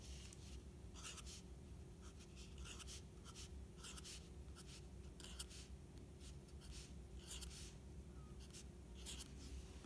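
Pen writing out a chemical formula by hand on paper, steady scratchy strokes in short bursts, close and quiet over a low background hum, with no talking.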